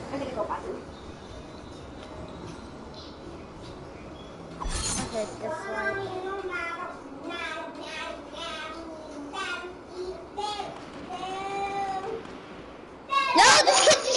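A cat meows again and again in a video game, a string of short, close, rising cries that come and go. People talk over them, and there is a loud burst near the end.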